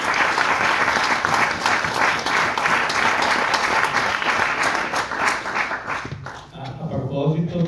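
An audience applauds loudly and steadily in a hall at an Italian book presentation, a dense wash of clapping that fades near the end as a voice begins speaking.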